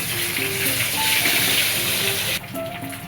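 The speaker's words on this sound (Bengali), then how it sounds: "ডিমগুলো এখানেই ভেজে নেবেন" Eggs fry in hot oil with a little turmeric in a wok, giving a steady, close, dense sizzle throughout with faint tonal clinks in the background.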